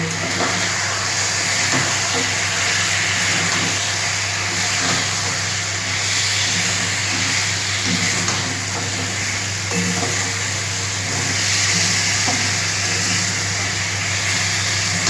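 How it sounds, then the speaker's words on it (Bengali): Potato, eggplant and ground spices including turmeric and Kashmiri chili powder sautéed in a pan, giving a continuous loud sizzle with occasional stirring scrapes, with no voices over it. "সমস্ত মশলা, আলু, বেগুন আমি একটু ভালো করে কষিয়ে নিয়ে তারপর জল দেব"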